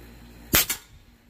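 An FX Panthera .30 caliber airgun fires a single sharp shot, a close crack with a quick second transient right after, followed by quiet.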